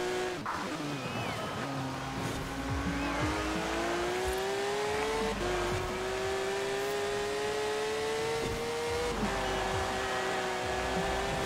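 A Porsche driven in the video game Forza Horizon 4, its engine revving through several gear changes with rising pitch sweeps and brief tire squeal, loud and continuous with no talk.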